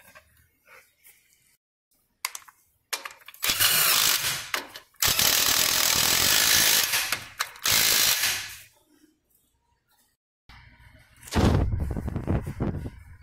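A ratchet turns bolts on an electric power steering rack in a workshop. Loud, close bursts of rapid clicking come in several runs separated by quiet gaps.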